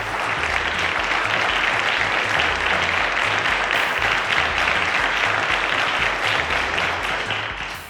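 A quiz show studio audience applauds the contestants of a schoolchildren's maths competition semi-final, a dense, loud and sustained wash of clapping that fades out at the end.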